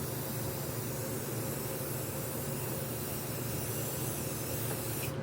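Spray can laying clear coat over spray paint art, a steady close hiss that holds unbroken for several seconds before cutting off at the end.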